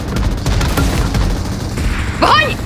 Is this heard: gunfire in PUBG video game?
yes